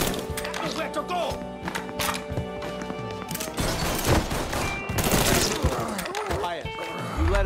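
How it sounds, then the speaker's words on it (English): Gunfire bursts in the Mafia III video game crackle through a dense, chaotic scene with music and voices, sustained volleys and crashes rising louder toward the end. "You let us handle the shooting from here on out."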